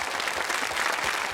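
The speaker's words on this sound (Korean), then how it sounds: "여러분 박수 보내주십시오." Studio audience clapping on a Korean military variety show, a short, even burst of applause heard on its own.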